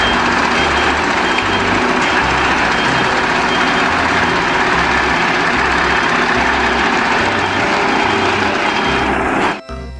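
A toy cement mixer truck plays its built-in sound effect, a steady buzzy engine drone with a rhythmic pulsing beep repeating throughout, loud and close until it cuts off just before the end.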